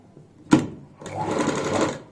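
A sewing machine stitches pintucks into a fabric sleeve: a sharp click, then a steady close whirring run of about a second, loud and alone with no talking.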